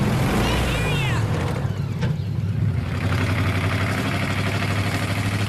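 A car engine with a broken muffler gives a loud, continuous low rumble that stays throughout, with brief higher tones riding over it.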